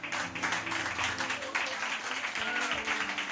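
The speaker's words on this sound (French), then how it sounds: "Ton acclamation est timide" A church congregation applauds and cheers during a sermon, a continuous crowd wash of claps and voices that swells and ebbs for a few seconds at moderate distance.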